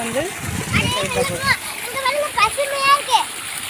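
Water splashes and splatters over loud children's voices and shouting, with busy, noisy activity throughout.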